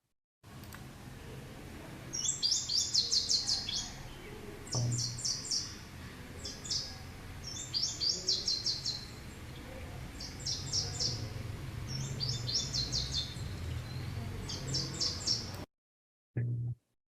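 Song of a yellow-headed brush finch (Atlapetes flaviceps): bright, quick chirped phrases repeat every second or so over a steady low background rumble, clear and moderately near, with no voices.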